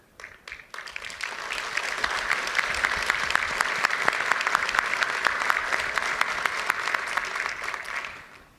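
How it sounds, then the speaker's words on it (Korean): Sustained crowd applause at a military commissioning ceremony for new officers, a dense wash of many hands clapping that swells quickly after a brief opening and holds steady for several seconds before tapering off. "아낌없는 격려의 박수를 보냅니다"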